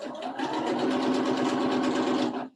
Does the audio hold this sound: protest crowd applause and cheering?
no